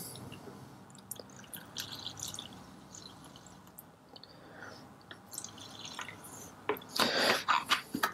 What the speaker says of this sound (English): I'm going to put some of the mild alkaline cleaner